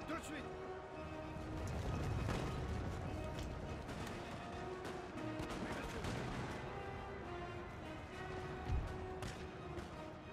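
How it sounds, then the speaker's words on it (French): Cannons and musket fire during a large siege battle in Napoleon Total War, a rumbling barrage of overlapping booms and crackling shots, with someone talking over the din. "Alors là, faut que je laisse les canons tirer."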